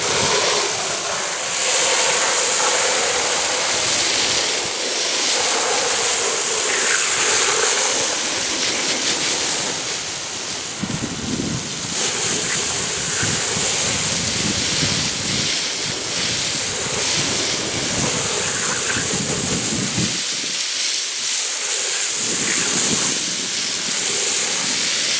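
Water sprays steadily from a hose or pressure nozzle, rinsing Oil Eater degreaser cleaner off a driveway surface, a loud continuous hiss that surges and dips for the whole stretch with no talking.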